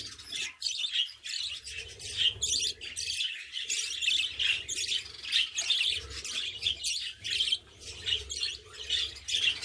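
Budgerigar chicks chirping in a nest, a dense, continuous chatter of high, rapid tweets and squawks close by, with no talking.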